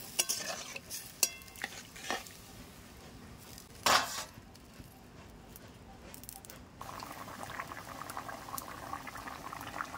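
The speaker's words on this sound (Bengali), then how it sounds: "ঝোলটা ফুটে উঠে গেছে" Egg curry broth bubbles at a steady boil in a pot, a soft continuous simmer punctuated by a few utensil clinks and stirring scrapes.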